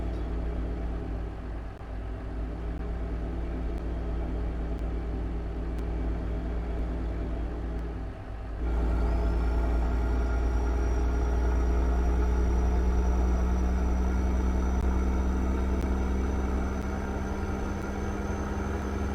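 A Caterpillar C-15 truck engine drives steadily in American Truck Simulator, a continuous low rumbling drone that swells louder partway through and holds, with no talk.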